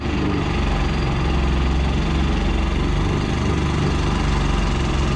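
A boat engine drones loudly and continuously on a river in Laos, a steady close-up mechanical rumble with no pauses and no voices.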